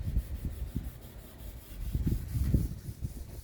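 Varnished boat wood is hand-sanded with 320 grit sandpaper, a soft close rubbing and scratching in repeated back-and-forth strokes, quiet and steady throughout.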